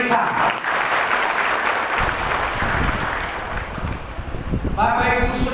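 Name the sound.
congregation applause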